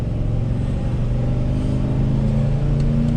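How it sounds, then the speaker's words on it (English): A 2013 Thor Chateau 26A Class C motorhome on a GMC van chassis with a 324-horsepower engine accelerates up a road, a steady loud low rumble of engine and road noise building throughout. "that 324 horsepower engine really takes off"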